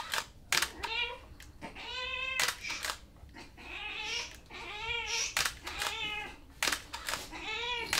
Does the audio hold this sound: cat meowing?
yes